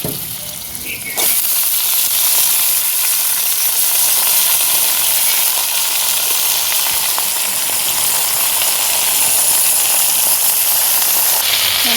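Cumin seeds, cinnamon pieces, and dried and green chillies sizzle loudly in hot oil, an intense, steady hiss that bursts in suddenly and holds strong throughout, with no voices.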